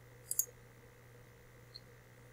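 A computer mouse clicks as Get Started is selected during a Facebook login setup: a quick double click near the start, then one faint single click later, over a steady low hum in a quiet room.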